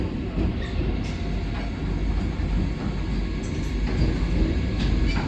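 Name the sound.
Mini Vande Bharat Express train running through Mahbubnagar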